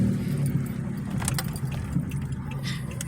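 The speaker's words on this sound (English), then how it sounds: "I got a car coming up behind me" A car rolls up from behind on a town street, a low steady engine rumble close by, with faint jingling and light clatter over it.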